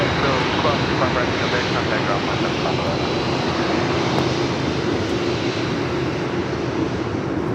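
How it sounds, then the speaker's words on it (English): A Boeing 747-8 freighter jet arriving at LAX from Seoul makes a loud, steady roar that stays constant and close throughout, with broadband engine noise and talk over it. "The 747-8 freighter is coming in from Seoul."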